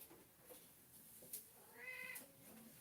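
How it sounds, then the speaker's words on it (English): A house cat meows in a quiet indoor room, one clear drawn-out cry standing alone with no talk over it. "You can hear the cat. Meow."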